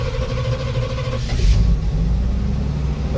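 A car engine started by pushing down a wire on the original ignition switch, cranking briefly, then catching into a loud, close, steady idling rumble.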